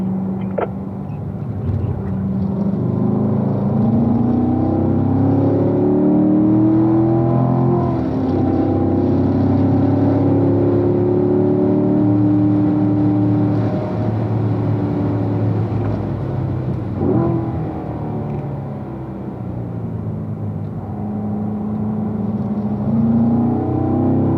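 Racing car powering out of turn 10 on a track, engine droning loud and steady with rising pitch sweeps as the throttle comes on hard, close and continuous with no talk.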